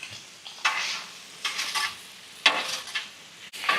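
Food being stirred and scraped on a hot Weber Slate 36-inch griddle during a hibachi cook, several short bursts of sizzling scrapes at irregular intervals with brief quiet gaps between.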